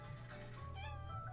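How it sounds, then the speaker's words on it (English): A pet cat meows close by indoors, a short plaintive call with a rising tonal sweep standing out over a steady low hum, no talk. "What are you meowing for?"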